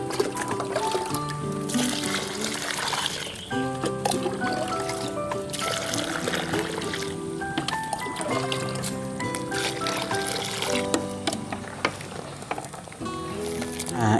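Fine sea sand is rinsed in water, with steady trickling and sloshing liquid sounds running continuously under a dense layer of background music.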